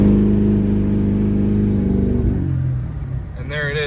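A tuned truck engine on its fifth tune setting, loud and close, holding a steady low drone before the revs drop and settle toward idle, with a voice breaking in near the end.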